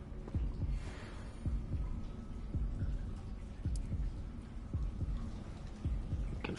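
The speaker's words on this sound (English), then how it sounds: "I can feel the heartbeat on my DualSense." Heartbeat effect in the video game Hogwarts Legacy, a low, thudding double pulse repeating steadily about once per second, clear and close over a faint background hum.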